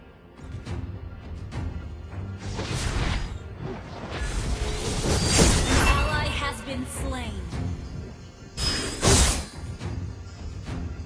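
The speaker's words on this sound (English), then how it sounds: "Our turret has been destroyed." Turret destruction in the Mobile Legends: Bang Bang video game, a dense roaring burst of crashing, whooshing effects that swells and fades, then flares briefly again near the end.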